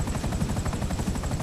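A damaged helicopter in the video game GTA V gives off a constant thudding rotor roar with a fast rhythmic chop. It plays alone at moderate loudness, with no talk.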